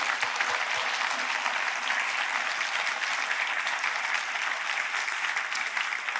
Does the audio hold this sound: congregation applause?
yes